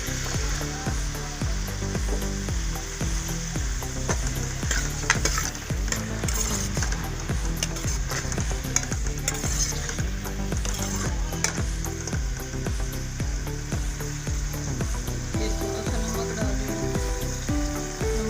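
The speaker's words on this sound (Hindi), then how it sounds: "डालने की जल्दी प्याज फ्राई हो जाते हैं।" Onions sizzling steadily in hot oil in a pan while being stirred, a continuous dense crackle with scraping stir strokes, recorded close, with a faint voice and background music underneath.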